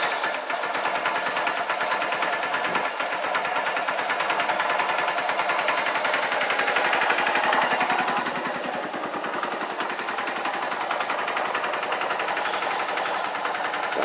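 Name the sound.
project engine running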